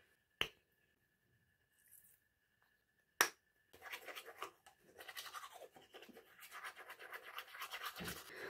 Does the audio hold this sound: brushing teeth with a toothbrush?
yes